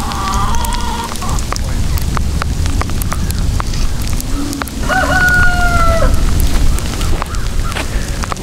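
A few backyard chickens cluck on a family property with many animals, and a rooster crows once midway over a constant crackling background hiss.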